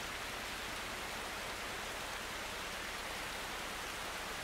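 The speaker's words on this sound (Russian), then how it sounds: "из-за дождя ни черта не слышно" Steady, dense rain hiss in the video game Stormworks, constant and even, filling the whole clip with no voices or other sounds.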